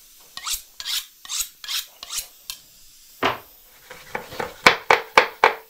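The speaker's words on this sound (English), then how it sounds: "Let's just sharpen this slightly." Kitchen knife being sharpened, steady rasping scrapes in an even rhythm, then a short pause and a quicker run of sharper strokes, close and fairly loud with no talking.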